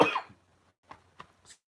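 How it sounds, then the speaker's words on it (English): A man gives one loud, close cough, followed by a few small, quiet throat-clearing coughs spaced out in otherwise silent air. "I'm just going to cough."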